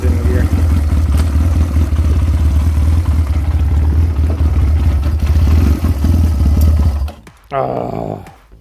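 A Chinese 250cc ATV that had sat unrun for about ten years, its engine running steadily in gear with a low clattering drone that cuts out near the end, followed by brief talk.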